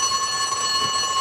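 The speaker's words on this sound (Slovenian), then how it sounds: "Alarm," An alarm clock in a cartoon rings with a steady, continuous electronic-bell trill, loud and close, holding unbroken for the whole moment with no voices over it.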